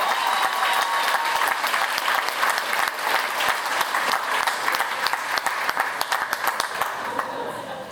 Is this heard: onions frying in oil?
no